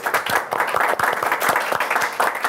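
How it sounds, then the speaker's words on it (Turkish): Studio audience applauding a guest on a Turkish talk show, a dense burst of many hands clapping steadily throughout, fairly loud and close with no talk over it. "Alkışlar Uğur Karakulukçu'ya"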